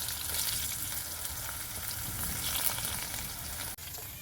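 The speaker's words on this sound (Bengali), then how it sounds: "আলুগুলো লাল লাল করে ভাজা হয়ে গেছে" Potatoes with a little turmeric sizzle steadily in hot oil for a rui fish curry, a dense continuous crackle close by with no talk, briefly interrupted near the end.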